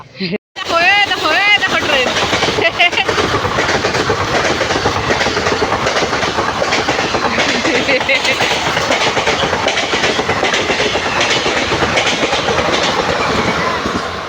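A train rumbles past close by in the dark, steady clickety-clack of wheels on rails and a loud roar lasting throughout, with a brief voice at the start.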